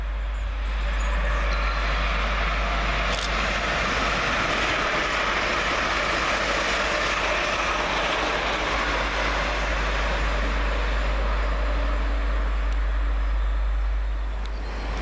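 Two coupled Class 350 electric multiple units, 350-256 and 350-377, rush past on the fast line at Leighton Buzzard station, a loud, steady roar of wheels and wind lasting the whole stretch with a deep rumble underneath.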